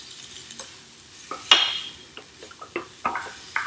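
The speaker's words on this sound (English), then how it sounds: "Now I'm going to go ahead and I'm going to add my black beans" Black beans tipped into a sauté pan of sizzling vegetables, a loud rattling clatter followed by scattered stirring scrapes and knocks against the pan over a soft sizzle.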